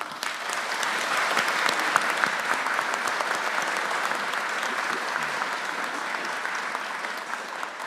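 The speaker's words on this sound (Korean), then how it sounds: "우리 노동부 장관님과 직원들 위해서 박수 한번 하겠습니다." A large audience applauds steadily and loudly at a South Korean government ministry briefing, a dense continuous wash of clapping with no speech, holding at an even level for several seconds.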